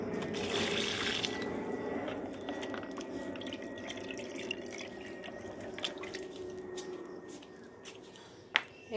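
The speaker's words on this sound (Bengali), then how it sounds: "এইভাবে জল মিশিয়ে আমি ফুল ফুল গাছগুলোতে দিই" Water mixed and poured onto potted flowering plants, a faint steady trickle and soft drips close by, with a few sharp splashes near the end and no talk.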